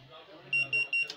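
An Arduino access control system's buzzer gives three short, shrill electronic beeps in even succession, close and loud, following a brief stretch of quiet voice-like background.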